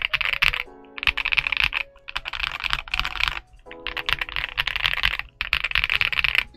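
Rapid, clacky typing on a Royal Kludge R65 mechanical keyboard in steady bursts, with brief pauses between runs of keystrokes, close and fairly loud.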